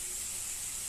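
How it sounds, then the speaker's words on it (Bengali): Water poured into a hot pan while cooking loti and sutki (dried fish) sets off a steady, bright sizzling hiss of steam that holds evenly through a brief moment. "এবার এটাতে আমি একটু জল দিয়ে দেব।"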